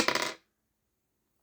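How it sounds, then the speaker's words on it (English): Dice rolled once in a Lost Fin solo board game, a short bright clatter of several quick rattling hits that ends abruptly, followed by quiet. "Every time you do a Coral Reef, you roll the dice."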